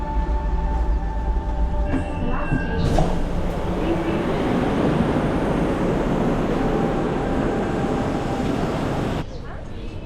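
Steady rumble and rattling roar of a subway train in motion in Azerbaijan, with a high squeal near the start and a brief drop in noise near the end.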